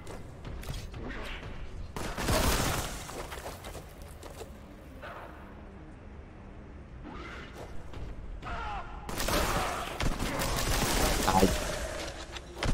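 Shotgun blasts in the Warhammer 40,000: Boltgun video game, heavy bursts clustered in two loud stretches around two and nine seconds, with quieter game noise between and a voice speaking over parts of it.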